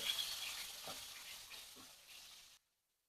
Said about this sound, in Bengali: মাছটা আমি হালকা করে ভেজে নিব